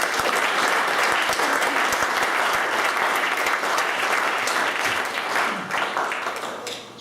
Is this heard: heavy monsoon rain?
no